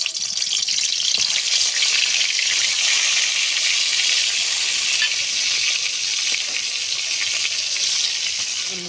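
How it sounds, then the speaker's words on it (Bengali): Pieces of eggplant frying in hot oil in a village Bengali kitchen, giving a continuous bright, close sizzle that holds steady the whole time. "এই পিঠটাও আমি সুন্দর করে ভেজে নেব"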